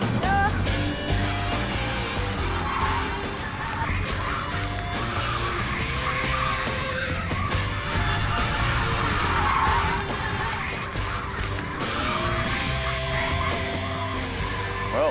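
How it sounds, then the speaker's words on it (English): Runaway truck skidding out of control and slamming into the back of a car during a traditional-tales myth test, with a sustained loud scraping roar and dense engine and mechanical noise running throughout. "we lost control of one of the trucks, and the other one hit the back of the car"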